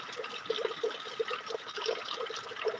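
Heavy village rainwater pours off a tin roof gutter into a bucket, giving a steady close splashing stream with regular gurgling pulses.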